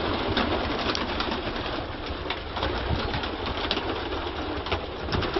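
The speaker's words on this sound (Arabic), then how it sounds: "انا عاوز حضراتكم تشوفوا بس ايه كميه الحمام اللي في البراج" Many pigeons coo together inside a five-year-old pigeon tower, a dense, steady murmur of overlapping coos and soft throaty calls filling the space, with occasional light wing rustles and no voices.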